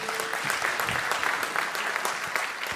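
An audience at a stand-up comedy concert claps in steady, sustained applause for a few seconds, dense and fairly close.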